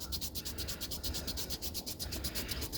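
A rag soaked in 70% isopropyl alcohol rubbed briskly back and forth on a dirty cork fishing rod handle, giving fast, even, rhythmic scrubbing strokes, close up and steady with no talking.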